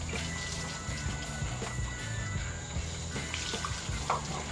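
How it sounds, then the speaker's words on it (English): Water runs steadily through the water pump of a Willys engine during a flush with waterglass, a continuous splashing trickle over a low mechanical hum, fairly close and alone without talk. "I'm just putting it into the water pump and then letting it flow right back out"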